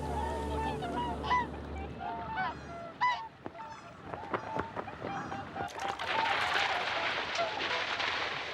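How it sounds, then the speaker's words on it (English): Whooper swans wintering in Hokkaido, Japan call with repeated bugling honks, some near and some farther off, over a low rumble and general outdoor noise. "Whooper swans fly down from Siberia and northern Korea."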